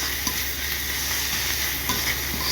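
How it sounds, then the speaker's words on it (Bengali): Onion paste is stirred into hot oil in a wok while cooking mutton rezala, giving a steady, close, dense sizzle and hiss with faint scraping of the stirring, with no voices. "পেঁয়াজ বাটাটা আমরা এখন একটু নেড়ে নেব।"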